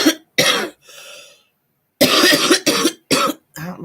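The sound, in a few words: woman coughing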